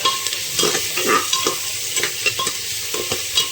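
Onion and split green chillies frying in a pan, with a loud continuous sizzle and repeated scraping strokes of a spatula stirring them, close and with no talking.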